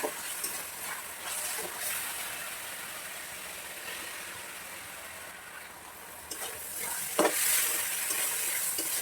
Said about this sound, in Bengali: ছোলার ডালটাও একটু নেড়ে ভেজে নিয়ে